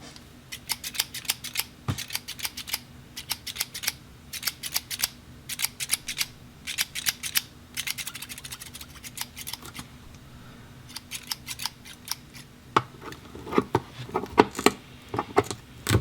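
Scissors snip open the packaging of an Assassin's Creed 4 Black Flag Skull edition, close and crisp, in quick bursts of repeated cuts separated by brief pauses, with no talking.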